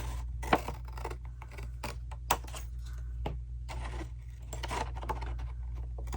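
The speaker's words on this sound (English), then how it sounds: "So we're going to miter this and cut right up here." Scissors cut paper for an envelope pocket in a papercraft session, giving a few close, sharp snips and crisp paper crackles spaced irregularly over a low steady hum.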